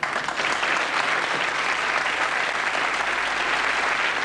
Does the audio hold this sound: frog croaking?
no